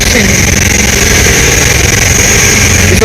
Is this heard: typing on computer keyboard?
no